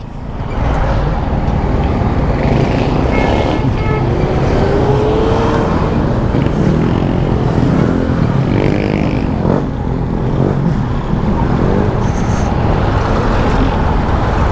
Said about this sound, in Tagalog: Linggo ngayon pero traffic dito sa Payatas Road.